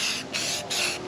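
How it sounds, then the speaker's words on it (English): A Rust-Oleum clear coat spray can sprays a light coat over stencil ink on a hand-routed wooden sign, making a close, loud hiss in three quick bursts with short dips between them. "Just a Rust-Oleum clear coat, and that's just to help keep that ink or the stencil ink when I spray it down in here"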